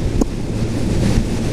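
Steady wind buffets the microphone on a wet, windy stretch of Ireland's Atlantic coast, a constant low roar with a brief gust near the start and no talk.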